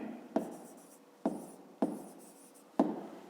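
Pen writing on paper during a fifth-grade maths exercise, four sharp taps or strokes spaced about a second apart, each trailing into soft scratching, close and quiet.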